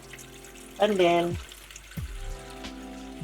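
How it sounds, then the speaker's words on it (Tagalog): Water is poured into a cooking pot in a home kitchen, a short splashing gush that stops after about half a second, followed by a couple of faint clanks, with a voice speaking briefly nearby. "Ito ngayon ay lalagyan ko ng tubig"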